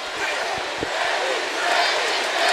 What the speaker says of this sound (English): The crowd chant Deji.